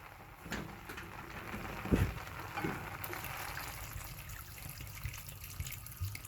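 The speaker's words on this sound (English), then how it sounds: "I'm going to add water." Faint, steady stream of water pouring into a pot, soft continuous splashing with a couple of light knocks.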